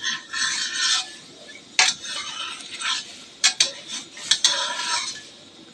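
An omelette with chili and vegetables frying in oil in a pan gives a steady sizzling hiss. Irregular scrapes and clinks of a utensil against the pan cut through it, with no voices.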